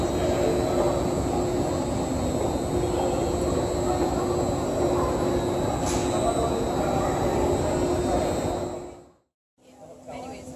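A Siemens S200 light rail train sits idling at an underground subway station, giving off a steady mechanical hum and whine with a faint high tone, then cutting briefly to near silence before the drone returns.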